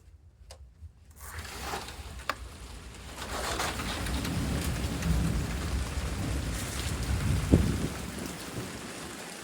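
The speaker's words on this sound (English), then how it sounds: "The thunder is continuous. I mean, it's rolling thunder. It's not stopping." Heavy rain pours steadily in a storm, with continuous rolling thunder building and rumbling underneath and a few sharper cracks, the downpour loud and constant throughout with no voices.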